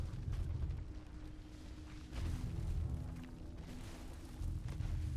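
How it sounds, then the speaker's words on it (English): A blast goes off in the co-op shooter Remnant: From the Ashes: a dense, rumbling low-end burst that swells, eases off and swells again, amid continuous noisy game sounds with no voices. "Nope, explosion time."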